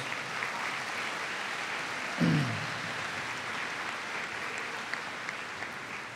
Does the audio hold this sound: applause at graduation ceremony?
yes